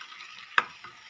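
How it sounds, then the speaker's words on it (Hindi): Eggplant curry stirred in a pan over a low, steady frying hiss, with one sharp scrape or tap of the spoon in the middle. "अब हम इसे अच्छे से मिक्स कर लेंगे।"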